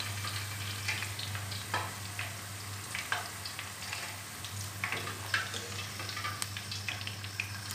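Capsicum browning in a frying pan gives a steady close sizzle, with scattered crackles and stirring scrapes running through it and no voices.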